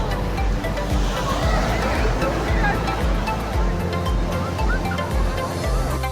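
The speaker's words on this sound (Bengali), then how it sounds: "এখন কি দারুণ ঢেউ দেখো শুধু বর্ষাকালে পুরীর ঢেউ সেই মারাত্মক" Rough monsoon-season waves roll in at high tide on the beach at Puri, making a constant, dense wash of surf close by, with a person talking over the noise throughout.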